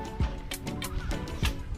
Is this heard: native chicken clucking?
yes